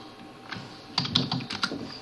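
Several close, crisp keystrokes tap on a malfunctioning computer keyboard, a quick uneven flurry over a faint background.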